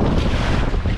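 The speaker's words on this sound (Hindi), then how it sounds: "खतरनाक लहरें" River rapids churn and surge during a rafting run, a loud, close, continuous rush of waves with heavy wind buffeting the microphone.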